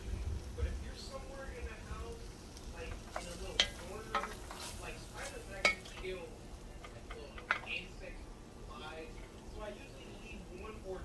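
Vegetables stirred into a pot of beef bourguignon, with soft scraping and clinks of the spoon, a few sharp knocks and a low simmer beneath, while someone talks over it.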